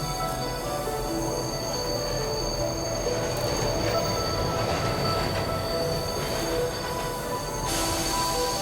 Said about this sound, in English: In the distance, Theo could just about spot the station, approaching at a rapid pace